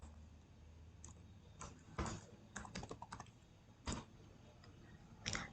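Computer keyboard keys are tapped in short irregular bursts, quiet and close, with a few sharper isolated clicks between pauses.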